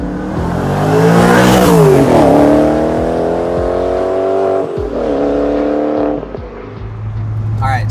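A B6 Audi S4 engine revs up and climbs through the gears, loud and close, with the pitch rising, easing, then rising again.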